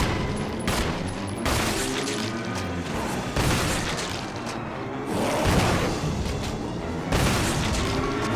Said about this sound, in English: it is always satisfying each time you land the perfect shot and blow a zombie's head to pieces